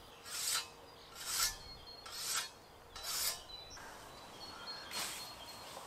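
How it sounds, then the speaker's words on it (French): Rhythmic swishing strokes of a scythe through grass, about six sweeps evenly spaced, crisp and close, with faint birdsong in the background. "au lieu d'une tondeuse, je préfère passer la faux"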